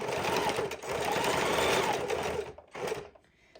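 A domestic sewing machine runs in steady bursts of stitching while a fidget quilt is sewn, loud and close, with a brief pause near the end before it starts up again.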